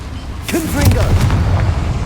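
A Confringo blasting spell goes off in Hogwarts Legacy: a loud, sustained booming blast with rumbling low end, underneath a short burst of speech.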